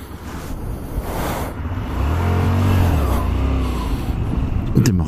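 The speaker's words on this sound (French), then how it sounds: "Démarrage en seconde, ça le fait pas." Honda Varadero 125 motorcycle pulling away in second gear, a low engine hum that swells into a strained, rising drone, close to the microphone, with faint talk nearby.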